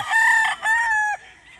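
Gamefowl roosters and bull stags crow loudly and close by at a gamefarm, two long harmonic crows in quick succession with some clucking, no talk over them.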